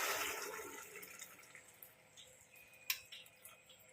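Hot water is poured into a pot of semolina on the stove, a faint splashing pour that tapers off, broken by a few small clinks and drips.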